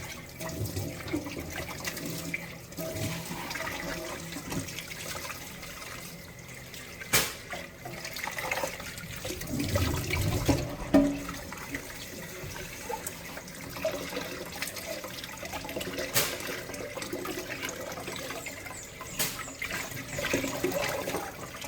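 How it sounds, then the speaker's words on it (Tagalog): Two big fish heads are rinsed under running water from a tap, a steady splashing flow with a few louder gushes and trickles and no speech. "Hugasan ko muna guys. Para malinis."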